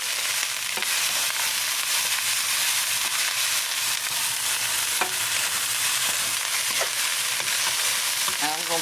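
Onions and garlic frying in a pan while being stirred, a constant close hiss of sizzling broken by occasional scraping clicks of the spoon, with no talking.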